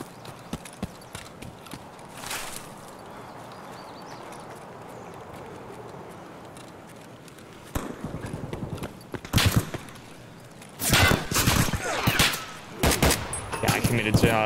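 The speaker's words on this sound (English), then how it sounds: "fucking scav started shooting me from behind" A scav opening fire from behind in a shooter video game, heard as quiet scattered thuds at first, then loud, close bursts of rapid shots in the second half.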